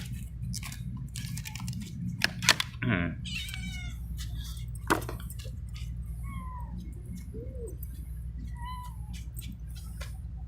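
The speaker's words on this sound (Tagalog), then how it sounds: "Magandang pusa oh." A Persian cat gives several short meows amid quiet background hum, with clicking and chewing-like noises scattered between calls.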